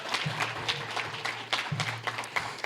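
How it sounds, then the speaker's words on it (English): An audience at a JCI USA gathering in Grand Rapids claps, a soft, steady patter of many hands with a few louder individual claps, low and somewhat distant over a faint hum. "Let's give a big round of applause to Deputy National President,"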